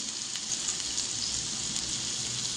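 Sangara fish fries in hot oil in a pan, giving a continuous close sizzle and crackle with a few faint pops and no voices.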